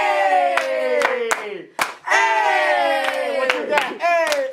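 A group at a youth club cypher claps hands in sharp, spaced claps between chanted vocals, the claps cutting through loud rhythmic voices.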